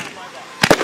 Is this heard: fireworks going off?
yes